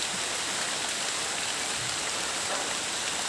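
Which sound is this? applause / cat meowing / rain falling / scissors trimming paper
rain falling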